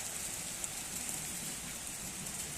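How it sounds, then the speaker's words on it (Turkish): Dense, steady patter of hail hitting surfaces, a constant broadband hiss with no pauses or voices. "Bunlar gökyüzünden bildiğin buz yağıyor."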